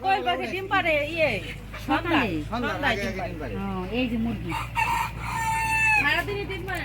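Chickens and roosters kept at a home crow repeatedly and loudly, with overlapping drawn-out calls and scattered clucks filling the whole stretch.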